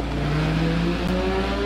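Porsche Cayman GT4 engine revving in a Roblox vehicle simulator game, a steady loud rising engine tone that climbs in pitch with a brief shift near the end, alone with no talk.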